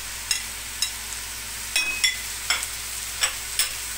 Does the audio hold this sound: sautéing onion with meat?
yes